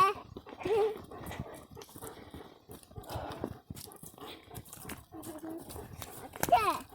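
A dog on a mushroom-picking walk in the woods gives a brief whimper and yelp near the end, with footsteps and people talking throughout.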